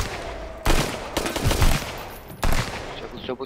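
Bursts of rapid gunfire in the video game Sunkenland, loud and close, two long volleys separated by a short gap, with a brief rattle at the end.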